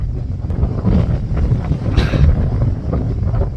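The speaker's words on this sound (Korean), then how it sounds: "옥상에 올라오니까 바람이 엄청나게 세차게 부는 거예요" Strong typhoon wind blows across a high rooftop in Jeju, a loud, continuous roaring buffet with gusting swells that batter the microphone throughout.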